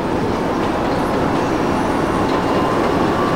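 A Berlin U-Bahn train on line U7 arrives at Hermannplatz in the Trainz 2004 railway simulator, giving a loud, steady rumble of wheels and carriage noise throughout.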